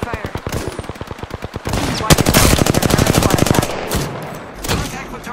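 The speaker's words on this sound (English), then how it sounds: "Opening fire." A rapid, evenly spaced burst of automatic weapon fire from the video game Apex Legends, loud and close, runs in a long string of sharp shots, with a few later single reports and a brief in-game voice.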